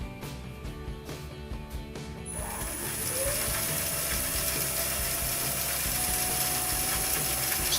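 A wood lathe spins an acrylic pen blank on a mandrel at 1200 rpm while a freshly sharpened spindle roughing gouge cuts it, a steady mechanical whir with a continuous high scraping tone that starts a couple of seconds in and holds.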